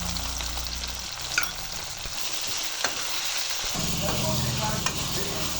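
Tomatoes, cumin and salt sautéing in hot oil for a fish curry, a steady close sizzle and hiss with occasional utensil scrapes and stirring clicks, a voice talking softly underneath.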